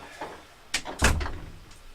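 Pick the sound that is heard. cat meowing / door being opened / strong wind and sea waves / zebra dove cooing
door being opened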